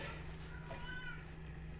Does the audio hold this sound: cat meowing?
yes